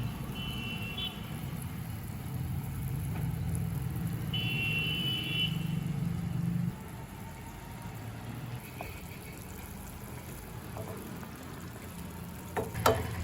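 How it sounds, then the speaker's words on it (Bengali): Yogurt gravy simmers in a pan with fried eggplant added, a soft, low bubbling and faint sizzle. The sound is steadier and fuller at first, then quieter, with a few small clinks near the end. "গ্রেভিটা ফুটছে।"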